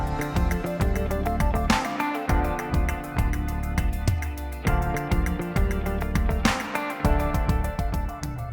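A programmed drum groove with punchy kicks, snare hits and steady ticking hi-hat sits over a deep bass guitar line, looping in a tight repeating pattern, played alone without vocals or talking.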